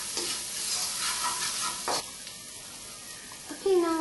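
Tomatoes and vegetables with spices and salt are sautéed in a pan for a vendakka masala pachadi, with a soft sizzle and brief scraping stirs, ending in a short squeak.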